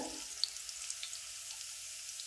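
Garlic fries in oil inside an idli vessel used as a kadai, a soft, steady sizzle with faint crackles, quiet and close.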